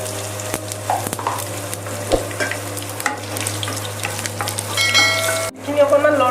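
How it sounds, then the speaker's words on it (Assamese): Green chillies with black and white cumin seeds fry in hot oil in a wok, a loud, steady sizzle with occasional clinks of stirring, close up, with little or no talking. "আমি কেইটামান ক'লা জিৰা আৰু কেইটামান বগা জিৰা কেৰাহীত দি দিলোঁ।"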